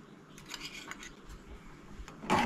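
Sprouted moong stirred in a pan: a couple of light metallic clinks and scrapes of a spoon against the pan, brief and fairly quiet, with a sharper scrape at the end.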